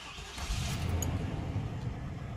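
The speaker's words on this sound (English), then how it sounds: "So what I'm going to do is I'm going to start the car now." A car engine cranks and catches, settling into a steady low rumble that stays fairly close and even for the rest of the moment, with no talking.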